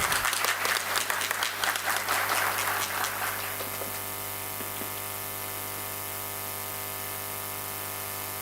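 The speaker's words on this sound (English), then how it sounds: "Please welcome sir with a huge round of applause." Loud crowd applause fills the first few seconds, then fades out, leaving a steady electrical hum beneath.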